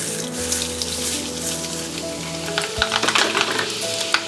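Sichuan pepper, black pepper and fenugreek seeds sizzle in hot oil, a steady close crackling hiss with occasional stirring scrapes and a louder burst of spattering toward the end, no talking.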